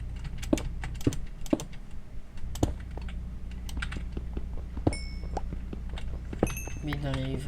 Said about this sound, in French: Vous avez jusqu'à entendre mes bruits de clavier.